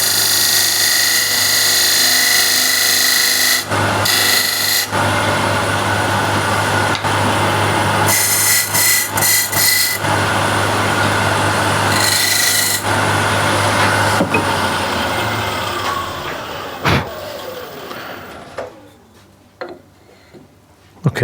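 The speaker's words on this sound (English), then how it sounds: "The easiest way is to use the skew bevel." A wood lathe spins a tough piece of wood while a skew chisel cuts it down in loud, close bursts broken by short pauses, and the motor winds down toward the end.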